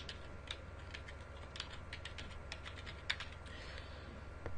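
Typing a user ID and password on a computer keyboard to log on, a quick irregular run of light key clicks, close and fairly quiet over a faint hum, no talk.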